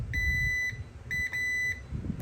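Two short electronic beeps from a multimeter, a steady high tone starting and stopping, over faint low background rumble.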